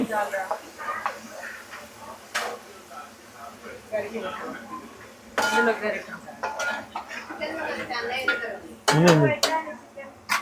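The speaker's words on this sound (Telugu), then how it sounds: "కలుపుకుంటున్నానండి" Food with ginger-garlic paste stirred in a metal pot, repeated scraping and clinking of a spoon against the sides, close by, with a person talking over it.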